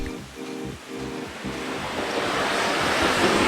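Heavy roar of Seljalandsfoss waterfall in south Iceland on a windy, icy winter day, a steady broadband wash with wind buffeting the microphone, rising louder toward the end.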